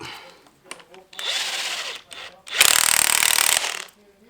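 Power tool driving a 17 mm bolt tight on a K-series car upgrade: a short whirring burst, then a louder, longer close-up rattling run, with brief speech in the gaps.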